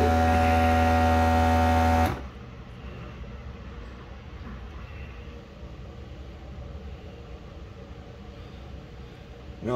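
A vacuum sealer pulls air from a bag of homemade apple crumble with a loud, steady motor drone that cuts off abruptly after two seconds, leaving only quiet room noise.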